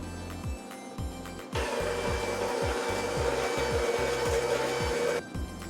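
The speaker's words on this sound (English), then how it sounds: "slowly pour it into the egg mix while we're beating this on low speed" Electric mixer beating an egg mixture on low speed for cupcake batter, a steady whirring hum with rhythmic scraping pulses, louder in the middle stretch and easing at either end, no talking.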